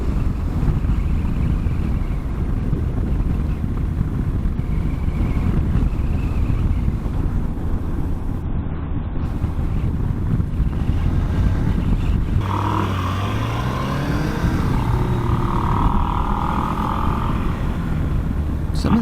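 A Honda CB360 motorcycle cruising in fourth gear on farm roads, its engine a low, steady drone beneath heavy wind buffeting on the microphone, with the pitch shifting slightly later on.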